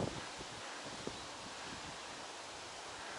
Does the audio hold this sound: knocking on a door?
no